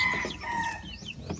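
A white kelso rooster, offspring of a street-breed bird, crows and clucks up close, a short loud burst with bright rising calls over lower clucking.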